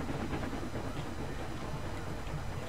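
Train running on a coaster track in the theme-park game Planet Coaster, a continuous rumbling rattle with faint clickety-clack, steady and fairly quiet throughout.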